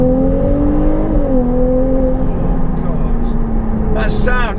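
A Ferrari 296 GTB hybrid engine revving, a loud sustained drone heard from inside the car that rises slightly, then settles to a steady hum, with someone talking over it near the end.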